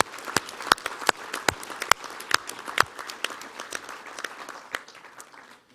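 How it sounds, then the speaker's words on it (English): Scattered, uneven clapping from a modest audience at a Yad Vashem gathering, individual sharp claps standing out, gradually thinning over a few seconds. "Let's give them another round of applause"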